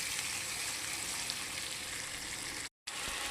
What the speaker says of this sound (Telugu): వేసి చిటికెడు పసుపు, కొద్దిగా అల్లం వెల్లుల్లిపాయ పేస్ట్ వేసుకొని చక్కగా ఇలా ఫ్రై చేయాలి.